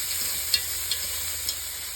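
Carrots and vegetables sautéing in a pot with a steady soft sizzle and a few faint stirring clicks, no voices.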